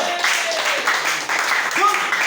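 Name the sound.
church congregation applauding for the prophetess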